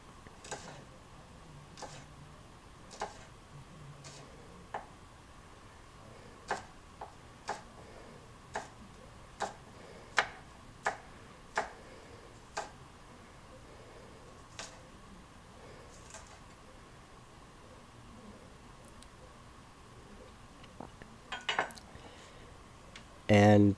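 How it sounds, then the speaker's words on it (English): Shallot sliced with a knife on a cutting board, heard as a series of sharp, evenly spaced cuts that are faint to moderate and close by, with a short clatter near the end. "we're gonna slice that up"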